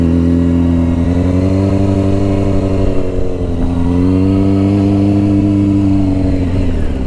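A motorcycle engine runs loud and steady through a hard turn, its droning hum holding close and constant with a slight dip and recovery midway, with no one talking.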